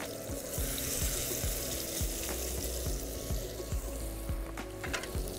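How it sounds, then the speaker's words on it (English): Pork chops sizzle and crackle steadily in a hot pan, a dense continuous hiss with faint rhythmic clicks underneath. "you can hear that little bit of a sizzle already as they go in"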